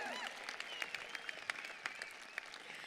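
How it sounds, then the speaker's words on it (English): A university graduation crowd for the class of 2021 claps steadily in a dense patter of applause, moderately loud and slightly distant, with faint cheering and voices mixed in. "That's worth a cheer, isn't it?"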